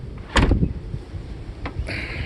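Quick mechanical clunks of the door locks on a 1995 Mercedes S600 coupe actuating by remote, a short cluster of thuds followed by another click a moment later, against quiet outdoor background.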